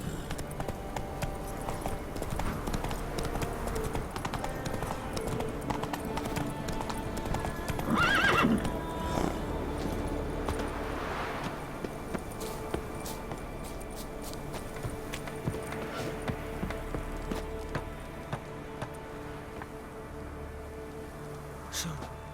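Roach, a horse in a video game, clip-clops steadily through hooves on ground, with a loud whinny partway through and soft rain-like ambience beneath; someone speaks briefly in between.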